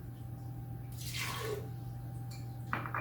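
A half cup of water pours into a blender for homemade barbecue sauce, a short splashing pour of about a second, close and moderately loud over a steady low hum, with a brief clink near the end.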